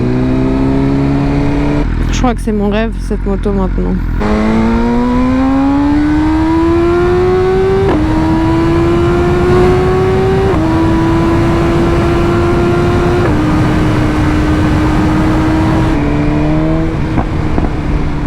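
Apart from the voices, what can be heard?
sport motorcycle engine revving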